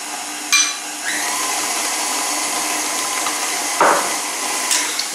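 An electric mixer runs at low speed, beating cookie dough in a bowl, giving a steady motor whir with a few brief clatters and bumps, close and alone without talk.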